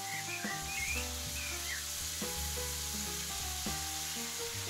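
Glass noodles fry in a kazan over a campfire just after soy sauce is added, giving a faint, steady sizzle with soft scraping and occasional light knocks, no voices.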